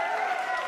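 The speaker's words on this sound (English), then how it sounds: "So we'll do the applause." A short applause sound effect plays on a podcast: a steady wash of many hands clapping, moderately loud, with no breaks.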